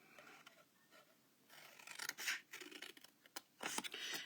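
Scissors snip through paper card for a Halloween treat box, a few soft, quiet scraping cuts that grow louder and more rapid toward the end, with no voices.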